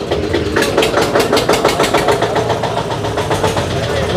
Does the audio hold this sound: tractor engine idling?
yes